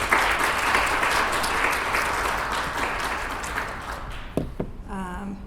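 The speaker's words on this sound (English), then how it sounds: "We could just give her a round of applause." Sustained audience applause at a league meeting on voter rights, steady dense clapping for several seconds that thins out with a few last claps before a voice begins speaking.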